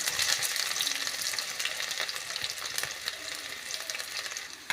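Cumin, garlic and ginger fry in hot melted ghee and oil, a loud, dense, continuous sizzle and crackle that stays close and steady throughout, with faint stirring under it.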